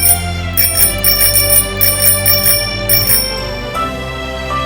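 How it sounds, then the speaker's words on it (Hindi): A bell on a child's scooter rings in quick repeated bursts, bright metallic trills close by, several rapid rings in a row before fading out. "अभी भी घंटी बज रही है।"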